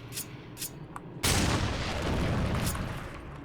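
Gunfire from the video game Darksiders II: a sudden loud blast bursts in and sustains as a dense, roaring burst over an earlier quieter stretch of faint ticks, with no talk.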